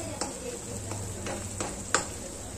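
Garam masala and onion-garlic masala stirred in a pan for paneer rezala, with a soft steady sizzle under several light scraping strokes, one sharper clink near the end, no talking.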